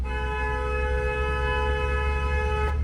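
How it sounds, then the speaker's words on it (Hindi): A car horn sounds in one long steady honk before a blind turn in a narrow lane, loud and close, over a low engine rumble, cutting off near the end. "यहाँ पे आपको टर्निंग से 10 से 20 मीटर पहले ऐसे हॉर्न बजाना होता है"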